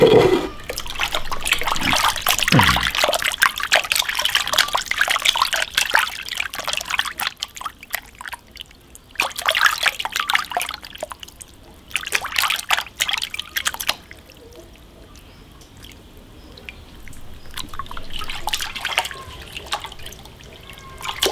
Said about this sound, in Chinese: 然后用水把它洗一下